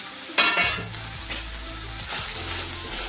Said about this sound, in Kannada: ಒಂದೆರಡು ನಿಮಿಷ ಈ ಥರ ಹುರ್ಕೊಳ್ಳೋಣ ಸ್ಲೋ ಮಾಡ್ಕೊಳ್ಳೋಣ ಗ್ಯಾಸು ಸ್ಲೋ ಮಾಡಿಕೊಂಡು ಈ ಥರ ಹುರ್ಕೊಳ್ಳೋಣ